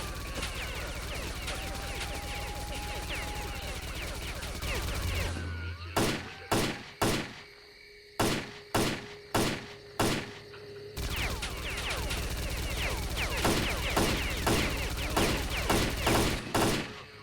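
Turret gunfire from the video game S.T.A.L.K.E.R. Clear Sky: a tight run of about ten loud, sharp shots in quick irregular bursts cuts through a steady ambient game background, which then returns with fainter distant pops.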